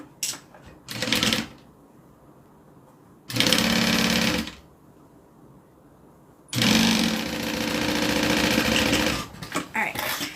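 A sewing machine stitching a zipper pocket on a Denver bag in three bursts of rapid mechanical whirring, short, then longer, then longest, close and loud, separated by quiet pauses.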